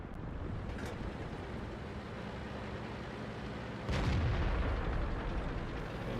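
A tank cannon fires in the video game World of Tanks: a steady low rumble of engine and wind is broken by one heavy, booming shot about two-thirds of the way through, followed by a lingering roar.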